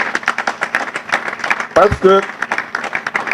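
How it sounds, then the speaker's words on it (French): An audience at a book launch in Lubumbashi claps steadily for the author, a rhythmic patter of hands under a voice speaking briefly over it. "je demande à l'assistance de pouvoir applaudir sérieusement"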